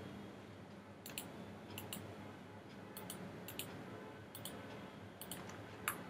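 A computer mouse clicks softly about a dozen times in uneven pairs over quiet room noise while modeling furniture in Autodesk 3ds Max, with no talk.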